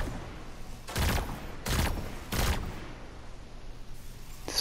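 Three loud, evenly spaced single gunshots in the Destiny game's Lost Sector, each a sharp burst with a short decay, over a quiet ambient background with a faint tail at the end.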